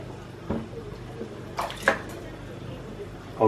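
Water draining from a kitchen sink after the plug is pulled, following a watercress rinse, a soft gurgling flow with faint drips and a few small knocks close by.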